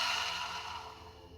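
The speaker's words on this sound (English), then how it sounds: "Open your mouth, exhale." Soft, faint exhale through an open mouth during guided box breathing, a single breathy sigh that fades gradually over a second or so.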